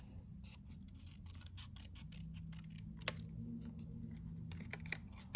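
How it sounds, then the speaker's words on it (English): Quiet, repeated snipping of scissors curving through paper, a steady run of small crisp cuts against a low background hum. "I could just curve along the top with my scissors"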